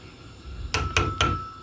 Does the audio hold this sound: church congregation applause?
no